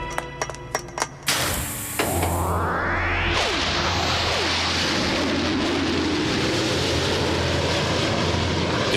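Cartoon airplanes roar off, engines swelling into a loud, continuous drone with a rising whine after a few sharp opening hits, holding steady to the end with no voices.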